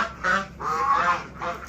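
Ducks quacking close by, three loud nasal honking calls in quick succession with short gaps between them.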